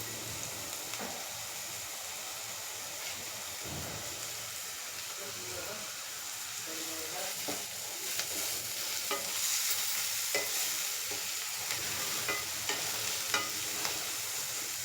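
Kasuri methi (dried fenugreek leaves) stirred into potatoes and onion frying in a pan for a potato fry, with a steady sizzle and scraping stirring strokes throughout, close and fairly loud, no talk.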